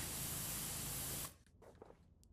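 A pressure washer in the video game PowerWash Simulator 2 sprays water across a roller disco deck in a loud, steady hiss that cuts off abruptly, leaving faint scattered clatter.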